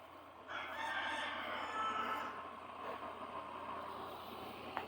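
Hens in a chicken coop cackle and cluck over the steady hum of an air conditioner running on low, with the birds fairly close and a brief sharp knock near the end.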